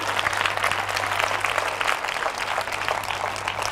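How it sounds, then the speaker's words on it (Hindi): A church congregation claps loudly and steadily for the Lord during a sermon, a continuous dense patter of hands over a low electrical hum. "जोर से ताली बजाएंगे प्रभु के लिए।"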